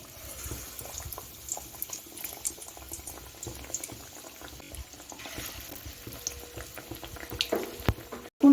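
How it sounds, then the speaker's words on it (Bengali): Potato pakoras deep-frying in hot oil, a steady bubbling sizzle with scattered pops and crackles throughout, fairly close and alone with no talk. "এখন আমি আলুর পকোড়াগুলো ভেজে নিচ্ছি"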